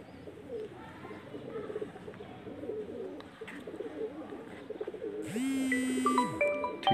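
Rampuri pigeons coo in low, rolling calls close by, with background chatter and other noise around them and a sharp whistling tone near the end.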